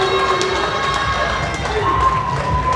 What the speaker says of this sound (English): let's have a round of applause for Stephen Barrry as well